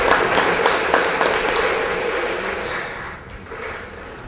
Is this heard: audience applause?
yes